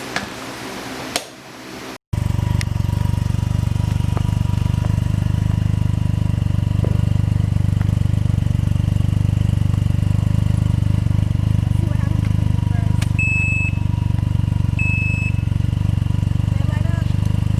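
A Can-Am Ryker three-wheel motorcycle engine runs at a steady idle: a loud, continuous low drone that starts abruptly after a brief rustle and holds unchanged to the end.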